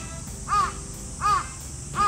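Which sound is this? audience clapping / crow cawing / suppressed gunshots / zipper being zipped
crow cawing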